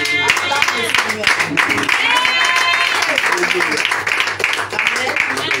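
A church congregation claps and applauds together in a steady, dense burst of cheering and clapping, with voices and sung or called-out praise mixed in.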